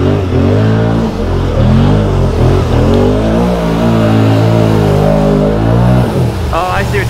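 A 650 XMR ATV on System 3 XM310 mud tires revs hard through a deep mud trench, the loud engine surging and bogging in steady near-continuous bursts, with voices talking over it.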